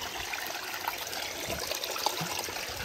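Clean spring water flowing out from under a rock in a nature reserve is disturbed by a hand, making a steady close trickle and light splashing with small bursts. No one speaks.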